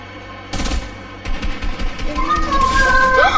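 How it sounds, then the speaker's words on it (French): Gunfire from a sniper rifle in the video game Fortnite, sudden sharp shots followed by a dense burst of repeated firing with electronic game tones rising over it, loud and close. "il m'a mis une balle de snipe, je suis mort"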